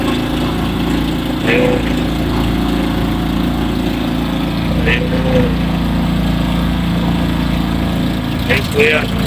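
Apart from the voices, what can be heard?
motorboat engine running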